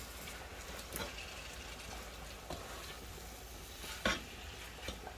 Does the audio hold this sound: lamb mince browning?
yes